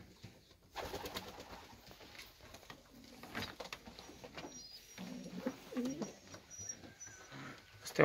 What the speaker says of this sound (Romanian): Ăsta e un porumbel mai bătrân